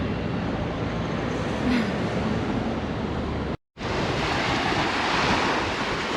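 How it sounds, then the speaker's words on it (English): Ocean waves on a beach: a loud, steady wash of surf with heavy wind rumble on the microphone, continuous and close apart from one brief dropout midway. "So we made it to the beach."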